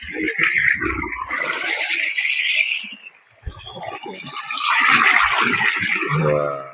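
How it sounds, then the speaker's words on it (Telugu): Clean borewell water flows and splashes outdoors in a steady, fairly loud rush, with brief talk in the middle and a short dip in the sound partway through. "చూడండి ఒకసారి, పారే నీళ్ళు, బోర్ అనమాట, స్వచ్ఛమైన వాటర్."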